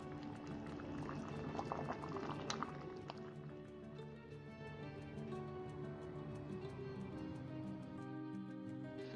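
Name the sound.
sugar syrup with sliced lemon boiling for baklava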